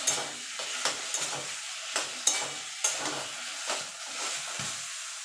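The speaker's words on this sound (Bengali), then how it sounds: "এবার এটাকে ভালো করে একটু নেড়ে চেড়ে নেবো" Taro greens with a little sugar stirred in a hot pan, a run of distinct spatula scrapes and clacks in an uneven rhythm over a soft sizzle, close up with no voices.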